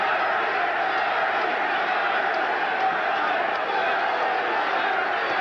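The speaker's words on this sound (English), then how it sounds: "the crowd starts a chant, Larry, Larry" A boxing arena crowd at the Larry Holmes versus Trevor Berbick heavyweight bout roars in a steady, dense wash of voices, loud and continuous throughout without clear breaks.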